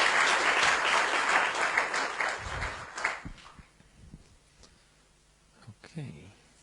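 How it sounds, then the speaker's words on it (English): A conference audience applauds at a live-streamed developer event. The clapping is dense and fairly close for about three seconds, then thins out into a few scattered claps and small room noises. "I think he deserves a round of applause."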